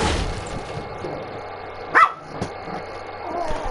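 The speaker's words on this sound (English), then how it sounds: "You two dogs gotta stop fighting" Dogs in a video game bark and scuffle, with one sharp bark standing out amid game noise and a few softer yips.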